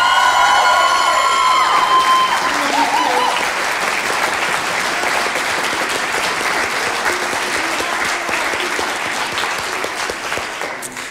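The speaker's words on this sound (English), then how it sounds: "So please give a round of applause for Carol." An audience at a college choir spring concert applauds and cheers loudly, the clapping fading gradually over several seconds, with whoops and a voice at the start.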